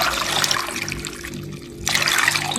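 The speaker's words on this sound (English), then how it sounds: "Then I'll add some water" Water pours into a pot of cassava, a close, splashy hiss of running liquid that briefly eases off before surging again.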